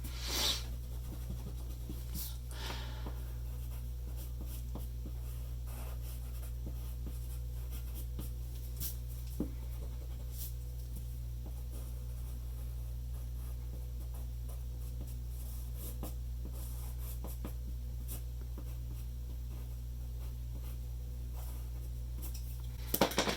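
Faint scratching of a pencil on paper during a drawing session: soft, irregular strokes and light taps recur over a low steady hum, quiet and close, with no talk.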